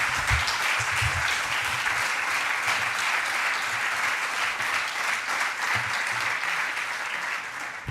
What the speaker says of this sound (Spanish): Jo faria un aplaudiment també per l'equip PAE.